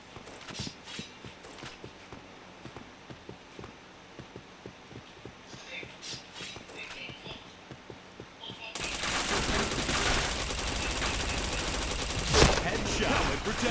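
Gunfire in a video game shooter. Rapid clattering bursts of shots and footsteps come first, then a louder, denser stretch of heavy firing, with a voice talking faintly at times.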